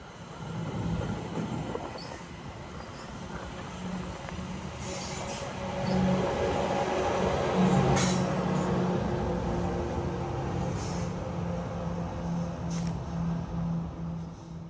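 A Bombardier ALP-45DP dual-mode locomotive running on diesel hauls a train past in Montreal, a steady rolling rumble with a low engine drone, wheel squeal and clatter that swells midway and stays loud and close.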